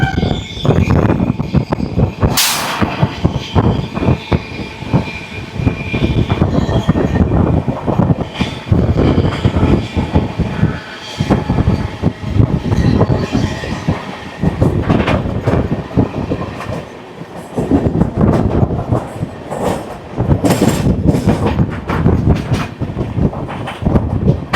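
The 22308 Bikaner–Howrah Express passes close by. Loud rhythmic clickety-clack bursts of wheels over rail joints repeat through the pass, with brief dips between them and no talking.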